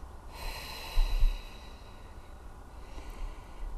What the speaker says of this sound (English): And then you breathe out.